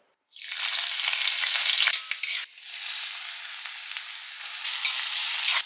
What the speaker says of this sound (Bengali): রসুন, কাঁচা লঙ্কা ফোড়ন অ্যাড করে পেঁয়াজটা অল্প ফ্রাই করে নিয়েছি।